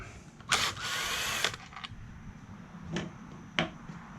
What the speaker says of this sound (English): now what I'm going to do is I'm going to take these two machine screws out